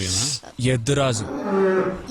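A bull moos loudly nearby in a few rough, drawn-out bellows, the last one long and steady.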